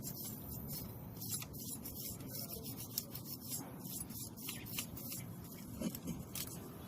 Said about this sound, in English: use an iron brush, remove all the crude that is there